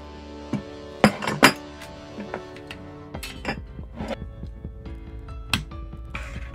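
Pliers click and clink against the small metal pins of a Mark 23 Spider-Man web shooter, a handful of sharp, close metallic ticks spread irregularly, with several quieter taps in between.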